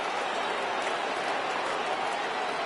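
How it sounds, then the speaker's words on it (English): A dense, steady roar of a stadium crowd fills the whole stretch, cheering loudly and evenly without clear breaks in a baseball video game. "Crowd gets up for the 3-2."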